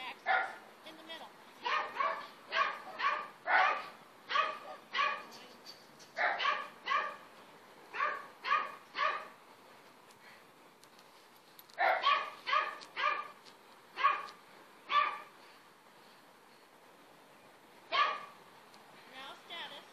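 A dog barks during agility training on weaves and serpentines, giving repeated sharp barks and yips in clustered bursts with pauses between them. The barking is moderately distant and somewhat faint, and no speech is heard over it.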